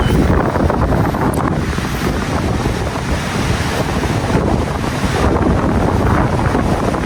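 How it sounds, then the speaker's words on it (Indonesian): Strong coastal wind buffets the microphone beside a river mouth at the sea's edge during a fishing outing, a loud continuous rumbling gust blended with surf wash throughout, with no talking. "Angin ya."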